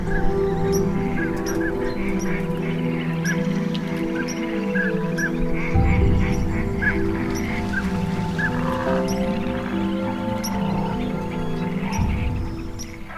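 Common pochard ducks on a spring lagoon at Gallocanta, with repeated short calls scattered over a steady wash of surrounding water and bird noise, moderately distant and continuous.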